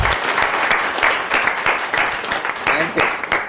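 Audience applause at a live seminar on the subconscious mind, dense steady clapping from a crowd lasting the whole stretch, with some voices mixed in.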